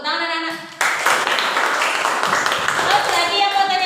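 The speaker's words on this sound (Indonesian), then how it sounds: "Tepuk tangan anak-anak." Children in an Indonesian school classroom burst into a dense round of clapping that starts abruptly and carries on steadily to the end, following a brief stretch of talk at the beginning.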